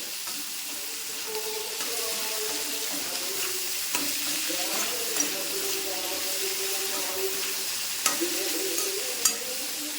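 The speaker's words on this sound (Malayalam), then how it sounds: "അപ്പോൾ നമുക്കിനി ഒന്ന് ഇളക്കി കൊടുക്കാം" A mixture for eggplant stir-fry frying in a pan with a low sizzle as it is stirred, soft scraping and occasional sharp clicks of the utensil over a faint background tone, close and moderately quiet.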